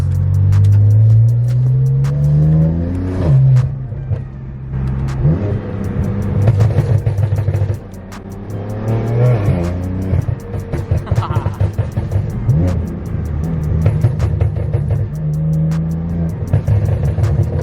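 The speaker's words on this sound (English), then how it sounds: "Car sounds so good with the downpipes." A BMW with aftermarket downpipes and a DCT automatic gearbox revs and accelerates through its gears. The engine sound is close and loud, with rising rev sweeps, gear changes and a deep rumble throughout.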